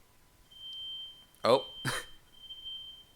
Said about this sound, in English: our smoke alarm is going off